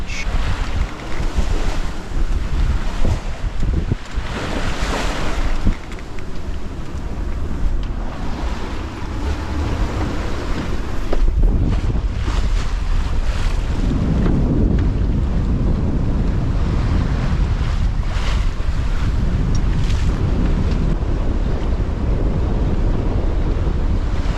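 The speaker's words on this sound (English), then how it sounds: "At the moment, the wind is a steady 20 to 23 knots beam reach." A strong, steady 20-knot beam-reach wind roars across a sailboat at sea overnight between Tongan islands, with ocean waves rushing and slapping against the hull in continuous, loud, close gusts and no talking.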